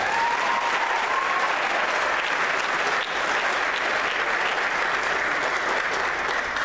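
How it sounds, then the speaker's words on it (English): An audience at a 2015 high school football banquet claps for the cheerleaders. The dense, sustained applause fills the room evenly for nearly seven seconds. "Let's give our cheerleaders a hand, please."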